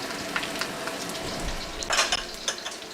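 Garlic, ginger and green onion whites frying in a hot wok give a steady close sizzle, with brighter crackling bursts near the two-second mark and faint utensil scrapes.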